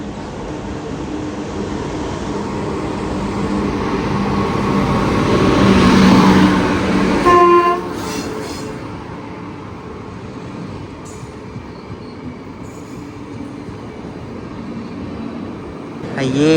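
A Mysuru–Chennai Shatabdi Express moving slowly alongside as a passenger train overtakes it, rumbling continuously and building to a peak before easing, with a brief horn blast near the middle and talk over the noise.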